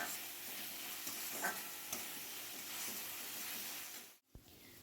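Potatoes fry in a pan with a steady, crackling sizzle that holds evenly and quietly throughout before cutting off abruptly with a short thud near the end.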